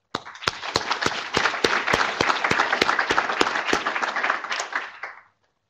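An audience applauding graduate student organizers at an academic talk, a dense burst of clapping with a few sharp distinct claps, loud and sustained for about five seconds before stopping abruptly.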